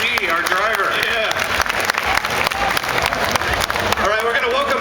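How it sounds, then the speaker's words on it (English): Audience applause at a Guild Wars 2 live stage demo at Gamescom 2011 in Cologne, with loud sustained clapping and cheering from the crowd while a presenter's voice talks over it. "Let's give a round of applause for Mike Z, our driver."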